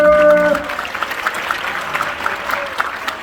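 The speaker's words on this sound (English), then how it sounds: "Ladies and gentlemen, a big round of applause for the amazing Winter!" Crowd applause for a young magician at a family stage show, a steady wash of clapping after a short musical sting fades at the start.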